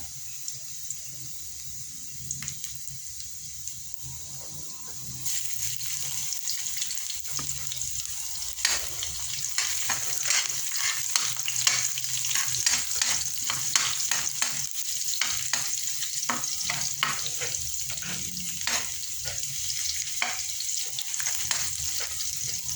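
Garlic frying in a pan while a cook makes sinampalukan, with stirring scrapes and clicks over a steady sizzle that swells after a few seconds and continues throughout, no voices.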